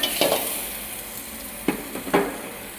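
Chopped green chillies frying in masala with onions for masala Maggi, a soft close sizzle punctuated by a few sharp scrapes and knocks of a spoon against the pan, no talking.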